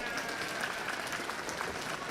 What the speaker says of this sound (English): Let's give all these fine wool cross exhibitors a big round of applause